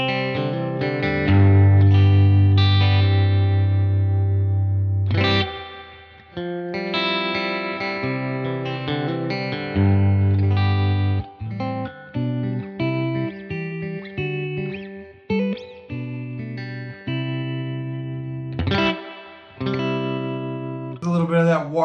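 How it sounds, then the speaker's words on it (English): Electric guitar played through a Universal Audio Dream 65 reverb pedal, with sustained chords and single notes ringing out in a lush, slightly warbling reverb tail and brief gaps between phrases. "A little bit of that warble in the reverb, if you can hear that."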